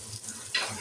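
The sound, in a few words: spices and garlic paste frying in oil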